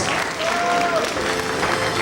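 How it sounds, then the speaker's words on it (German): Big studio audience applause on a 1997 German TV entertainment show, a dense, steady wash of clapping filling the whole moment at close range. "bitte zu uns auf die Bühne mit einem riesen Applaus"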